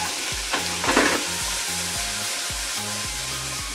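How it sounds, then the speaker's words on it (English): Spiced food with tomatoes bubbling in a pan, an even close sizzle with a brief burst of louder crackling early on and a low repeating hum underneath, no speech. "Let that simmer a little bit."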